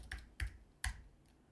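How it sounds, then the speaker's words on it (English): Three crisp, separate keystrokes on a computer keyboard, close and quiet, spaced unevenly over a second and a half in an otherwise still room. "And then if I type bit.ly"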